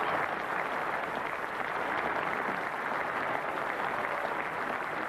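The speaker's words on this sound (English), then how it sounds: "Warm applause all the way around, and England teammates standing," Sustained crowd applause at an England v Pakistan Test match at Old Trafford in 1992, steady and even from start to finish, with no other sounds breaking through.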